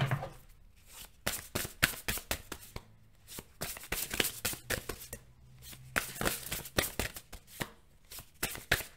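Tarot cards are shuffled by hand, making rapid, irregular bursts of crisp flicking and riffling that come close and fairly loud, with brief pauses between runs.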